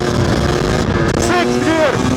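A 2-stroke 300cc motorcycle launches in second gear on a long straight, its engine a loud, steady buzzing drone with rising tonal sweeps as revs climb, plus wind rush throughout.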